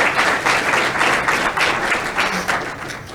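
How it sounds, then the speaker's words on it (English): Graduation audience claps for the teachers in a steady, loud wave of applause that swells and holds, dense clapping from a large seated crowd with no talk on top. "I would like to ask for another round of applause for our incredible teachers"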